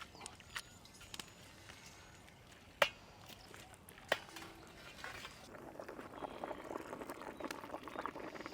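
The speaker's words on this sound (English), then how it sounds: "Water is boiling now." Water boiling in a pot for spaghetti, a faint, soft bubbling hiss in a quiet kitchen that grows busier toward the end, with a few sharp clinks of utensils early on.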